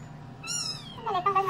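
A white pet cat gives a short, high meow and then a longer, lower falling meow, fairly quiet and close, with faint room noise behind.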